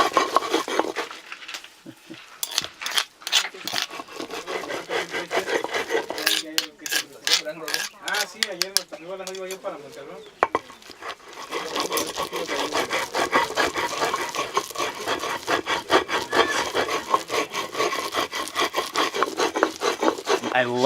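Dried chilies ground between stones for Oaxacan mole negro in a village kitchen, giving a steady rhythmic rasp of rock scraping on rock with softer wet squishing, close up and continuous.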